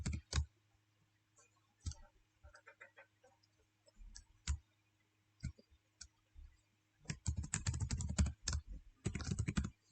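A password is typed on a computer keyboard, giving scattered single key clicks that lead into a quick run of rapid typing, close and fairly quiet.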